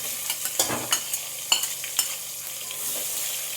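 Onions fry in hot oil with warmed whole spices, a soft steady sizzle broken by several sharp stirring clacks and scrapes in the first two seconds.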